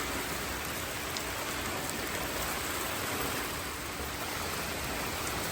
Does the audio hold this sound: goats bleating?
no